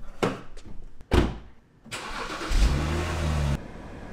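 A borrowed car's engine cranks, stumbles and catches after a few clicks and thumps, then settles into a steady, close, loud idle with a low rumbling hum and no talk.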